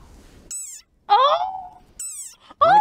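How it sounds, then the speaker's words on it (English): A desert rain frog gives four short, high-pitched squeaks, close and loud, separated by brief silences. "Like this desert rain frog."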